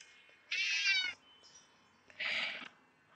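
A cat meows twice in a Friday the 13th killer puzzle video game, two clear, fairly loud mews about a second and a half apart with quiet gaps between them.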